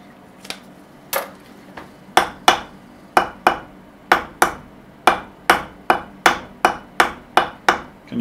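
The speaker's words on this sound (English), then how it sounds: "You can also identify them with a plastic faced hammer." A plastic-faced hammer taps a steel plate in a steady series of about fifteen sharp, ringing knocks, each decaying quickly, with no talking.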